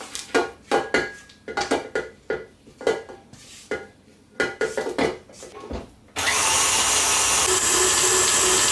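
Stand mixer creaming butter and sugar for a Simnel cake: first a run of intermittent clattering knocks and scrapes as the bowl is stopped and worked, then a steady, loud continuous whir of the mixer running alone for the last few seconds.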